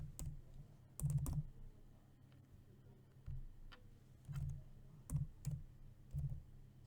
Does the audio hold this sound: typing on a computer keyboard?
yes